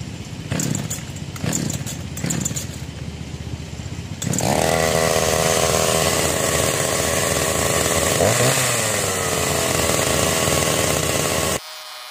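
A Chinese TK 4500 chainsaw is pulled over several times while cold, then catches and runs at a loud, steady high-revving roar close by for about seven seconds before cutting off.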